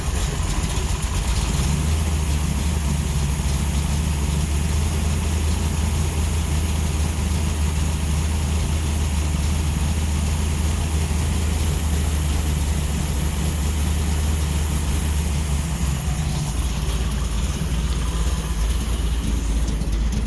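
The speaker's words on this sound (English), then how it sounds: "Don't mind my belt squeaking." A Hemi Dodge Charger engine idles cold with a steady, loud rumble, a thin high squeal from a worn belt running over it throughout.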